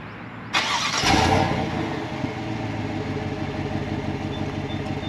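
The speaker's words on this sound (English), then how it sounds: "So that's the V8 with the dual exhaust." A 2023 Chevy Silverado RST V8 with dual exhaust cranks and fires with a sharp, loud burst, flares briefly, then settles into a steady, rumbling idle close by.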